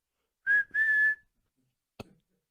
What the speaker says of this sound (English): like a referee with a whistle